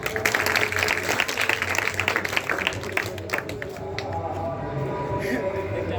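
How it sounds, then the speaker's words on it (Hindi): A crowd at a Teacher's Day program applauds as Sunny Sir is called to the stage, a loud burst of mixed clapping that thins out after about three seconds into quieter room murmur. "सनी सर के लिए तालियां"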